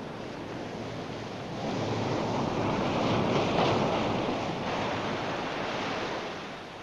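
Ocean waves wash onto a dark beach at night: a steady, broad roar of surf that swells louder around the middle and eases off again, with no voices.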